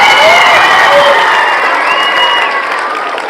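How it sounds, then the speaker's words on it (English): A loud school assembly crowd claps and cheers for a teacher at a batch farewell gathering, dense applause with scattered shouts and voices that eases slightly toward the end. "So please clap for Huzefa sir also."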